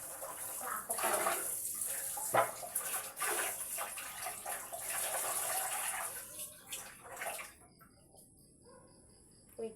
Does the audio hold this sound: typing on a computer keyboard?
no